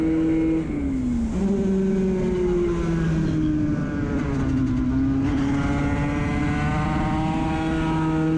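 A pack of 250/300/Moto3 racing motorcycles screams down the back straight of a road-racing circuit, engines droning loudly together with rising and shifting pitch, continuous and fairly close.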